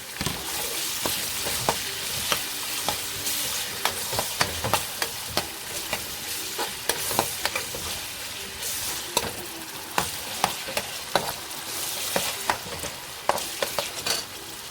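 Onion and bell pepper sizzle steadily in a pan while a utensil scrapes and taps at an uneven rhythm, close up, with no voices.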